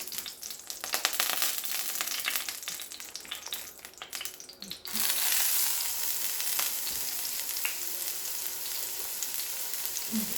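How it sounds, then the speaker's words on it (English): A pound of pork dropped into a hot pan crackles and pops, then swells into a loud, steady sizzle with occasional stirring scrapes. "now I will add in my pork. So this is 1 pound of pork."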